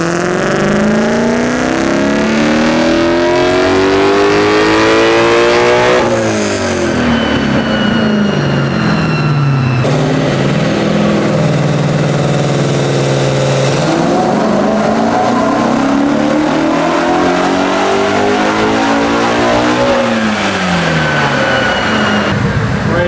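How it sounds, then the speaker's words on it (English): A Mercedes fitted with a swapped naturally aspirated high-revving engine and a MagnaFlow exhaust, loud and close, revving up and down repeatedly in long sweeping climbs to a screaming high pitch, with throaty exhaust roar and no talking. "Oh my God, this engine sounds good."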